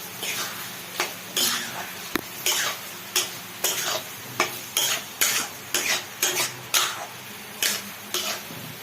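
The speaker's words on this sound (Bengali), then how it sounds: "আর তারপরে দেওয়া হবে এর মধ্যে কাঁচা সর্ষের তেল দিয়ে আবার এটাকে ভালো করে নাড়াচাড়া করতে হবে" Pumpkin leaves and prawns are turned over in a pan with raw mustard oil, making a string of rhythmic scraping strokes about twice a second over a soft sizzle, close and fairly loud.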